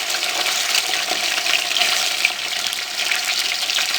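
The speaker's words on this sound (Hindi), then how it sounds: "चिकन को 1 से 2 मिनट के लिए अच्छे तरीके से फ्राई कर लेंगे।" Chicken pieces frying with browned onions over medium flame for jungli pulao, a loud, close, continuous hissing sizzle like rushing water, steady throughout with no talk.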